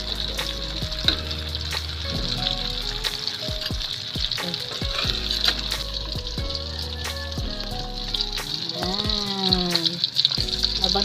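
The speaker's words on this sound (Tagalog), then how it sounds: "iprito naman natin yung ating partner ng ating munggo ay ang daing" Dried fish (daing) frying in a pan as a side for mung bean stew, with a steady loud sizzle and crackle throughout, punctuated by clinks of a utensil against the pan; music plays in the background.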